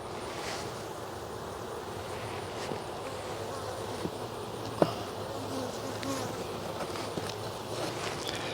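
Honeybees buzz steadily and close during a September hive inspection, a dense continuous drone with a few brief knocks and clicks from handling the frames.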